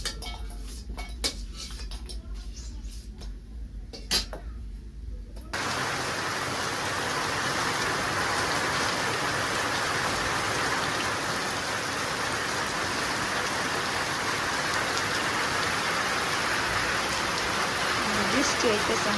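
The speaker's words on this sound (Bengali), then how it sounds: "বৃষ্টি হইতেছে" Steady rain pours down over a rural home kitchen area, a dense hiss that swells after a few seconds of quieter dripping and light clinks of cookware, continuing unbroken and close.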